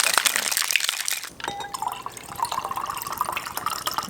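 Midori melon liqueur is poured into a glass in a steady liquid trickle that rises gently in pitch as the glass fills, with some clinking and splashing at the start.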